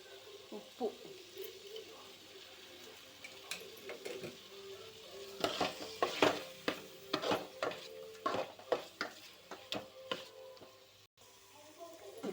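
Spices fry in hot oil in a pan for an okra tamarind stew, with soft sizzling, crackles and metal stirring clicks that grow busier midway, fairly close and quiet, with no talk.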